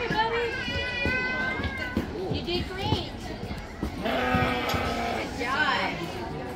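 Goats bleat repeatedly in wavering, quavering cries on an outdoor obstacle course, mixed with a voice and other chatter throughout.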